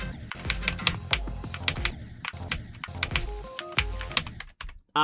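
Rapid clicking from playing Geometry Dash, with quick sharp clicks in bursts running over loud, busy game music and pausing briefly near the end.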